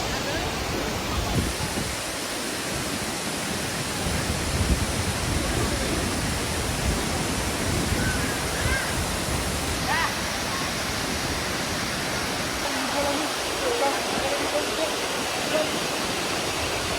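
Tumpak Sewu waterfall in Indonesia pours with a constant broad roar, a dense, even wash of falling water heard close and loud throughout with no break.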